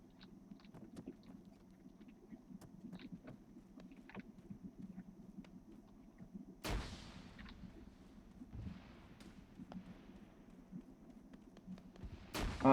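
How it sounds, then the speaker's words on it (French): Grenade launcher explosions in a video game, sharp loud booms cutting through a steady rumble of game noise, with one large blast midway and another at the end. "L'arme des noobs par excellence, j'ai appelé le lance-grenade sur ce jeu."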